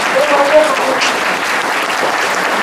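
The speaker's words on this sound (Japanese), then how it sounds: "もう一度大きな拍手をお願いいたします" Loud applause from an audience at a lecture event, a thick wash of clapping heard up close, sustained for a few seconds with a voice speaking faintly over it.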